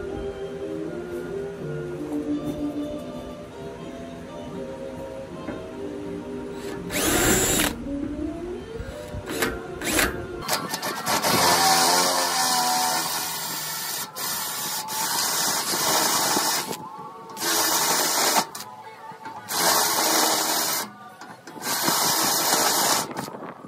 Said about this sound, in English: then drill through the steel angle